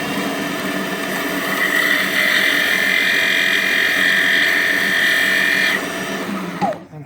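A Cobra Class NP-4 bell skiver runs at full speed as a dressing tool touches the inside edge of its bell knife blade, giving a loud, steady high whine with a grinding edge that drops off as the machine slows at the end.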